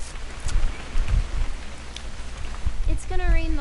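Steady rain in the video game What Remains of Edith Finch, a close hiss of drops on surfaces with low rumbling gusts, and a voice speaking briefly near the end.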